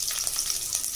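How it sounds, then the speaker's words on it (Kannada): Onions frying in hot oil give a bright, steady sizzle with crackling bursts, close and fairly loud for a brief moment. "ಎಣ್ಣೆ ಕಾದಿದೆ, ಈರುಳ್ಳಿ ಹಾಕೋಬೇಕು"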